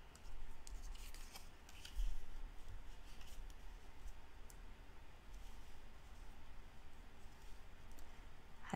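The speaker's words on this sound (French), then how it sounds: "Je vais les découper au ciseau." Scissors snipping paper for a scrapbooking page, with repeated close crisp cuts and soft paper rustling throughout.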